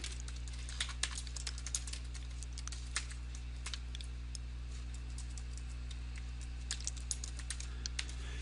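Someone types on a computer keyboard in an irregular stream of light, close key taps over a steady low electrical hum, with no talking.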